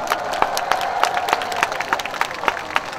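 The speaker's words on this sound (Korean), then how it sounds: "이쯤에서 다시 한번 뜨거운 박수 함성 부탁드립니다." An audience at a taekwondo performance at the Cheonan K Culture Expo fills the space with steady, dense applause and cheering, with sharp claps popping through the continuous crowd roar.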